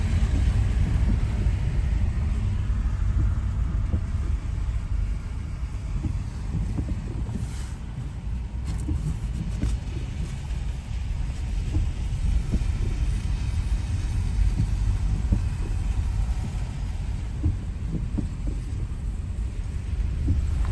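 Street traffic on a city boulevard in Çekmece, Antakya, Hatay: a steady low rumble of passing cars with wind buffeting, continuous and fairly loud throughout, with no talking.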